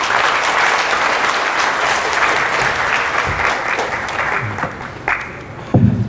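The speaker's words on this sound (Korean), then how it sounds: "큰 박수 부탁드립니다." A conference audience at PyCon APAC 2016 claps steadily throughout, a dense wash of applause that carries on without pause, with a few louder claps near the end.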